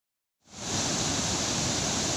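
The Bharathapuzha river surges through a check dam after heavy rain, a loud, steady roar of rushing water that starts abruptly and holds constant.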